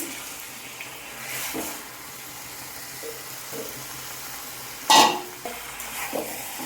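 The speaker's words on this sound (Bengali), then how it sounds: "কচুগুলো চিকেনটাকে ভালো করে নাড়িয়ে নিয়ে" Chicken and taro (kochu) pieces get stirred in a pan, with soft intermittent scraping and a faint sizzle, then one sharp clatter near the end, with no voices.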